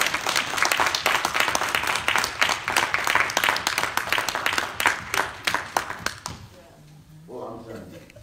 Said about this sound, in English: Somebody clap to the Lord